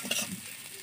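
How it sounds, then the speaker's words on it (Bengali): Plain white potato pieces frying in mustard oil give off a brief, steady, airy sizzle close up, with a faint stir of the pan. "এই আলুটিতে আমি হলুদ দিইনি, এমনি সাদা আলুটি ভেজে নিচ্ছি"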